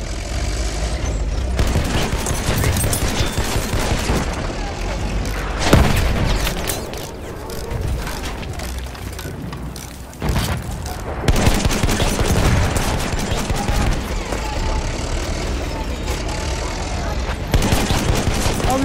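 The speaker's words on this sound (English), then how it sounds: "Enemy machine gun!" Sustained automatic machine gun fire and scattered booms from an enemy position on the Monte Grappa battlefield in Battlefield 1, dense and loud throughout with brief lulls, mixed with distant explosions and shouting voices.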